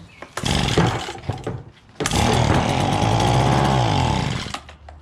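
An Echo PB-200 handheld leaf blower's small two-stroke engine catches briefly, sputters and dies, then fires again and runs loud and close for a couple of seconds, its pitch sliding as it revs before fading out.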